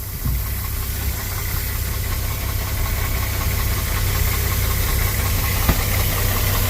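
A car engine runs steadily at a rough, knocking idle after a starter repair, loud and close with a constant droning rumble and one sharp click, no talk.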